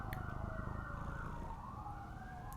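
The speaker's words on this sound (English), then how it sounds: "Yeah, there's a lot of sirens out there." Emergency vehicle sirens wail outside, a steady rising and falling tone heard from a distance through walls over a low rumbling background.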